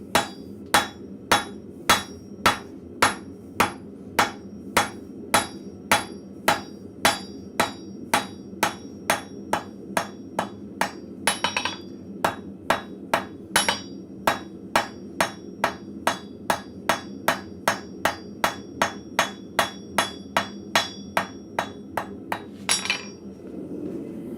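Blacksmith tapering hot steel with a 2-pound hammer, a long run of sharp, evenly spaced ringing strikes, close and clear, with a couple of brief pauses in the rhythm.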